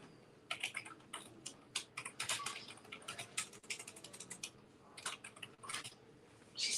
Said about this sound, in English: She's typing like the wind.